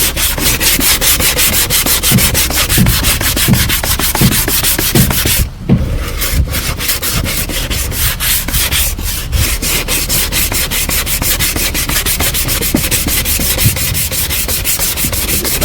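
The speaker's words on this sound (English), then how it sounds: "now I'm going to take a sanding block, hand sanding block, just do some initial shaping" Steady back-and-forth scraping of a hand sanding block shaping a plastic-welded plastic bumper, rhythmic strokes continuing close up with a brief pause midway.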